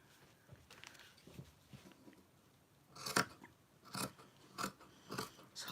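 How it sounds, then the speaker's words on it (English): Scissors cutting freehand along the edging of a handwoven garment made from handspun yarn: a few crisp, close snips in the latter half, after a quiet start with faint handling noise and no talk. "Freehand cut that."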